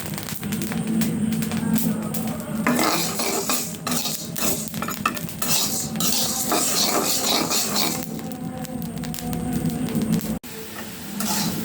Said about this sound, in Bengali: আমি কী করবো হলো চাল ভাজতেছি।